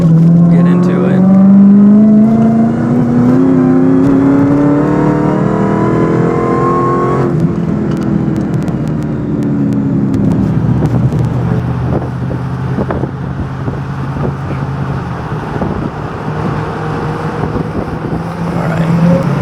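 Heard from inside the cabin, a 1000 HP Dodge SRT Super Stock accelerates hard. The engine note climbs loudly in pitch, drops at a gear change, then keeps pulling with heavy wind rush.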